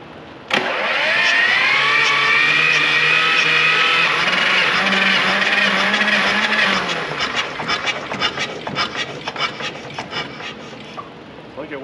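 An air-cooled Lister diesel engine cranks and catches, settling into a loud, steady running drone that holds for several seconds, then fades to uneven, rougher knocking and sputtering near the end.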